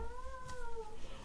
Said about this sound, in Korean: 여러분들 지금 저희 고양이가